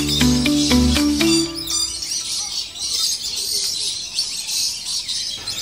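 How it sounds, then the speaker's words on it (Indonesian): Birds chirping inside a walk-through zoo aviary with a built-in waterfall: a few loud tonal calls up front give way to dense, continuous high twittering over a steady wash of background noise. "Oke, kita ke area burung."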